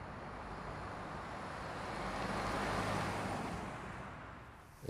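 A 2023 Lexus RX500h hybrid SUV cruising on a motorway, with steady broadband road and wind roar that swells slightly midway and holds constant throughout, no voices present.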